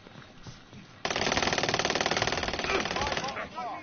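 Rapid automatic gunfire from Call of Duty Warzone on PS4 erupts suddenly and rattles on continuously for nearly three seconds, loud and close, with faint player chatter before it.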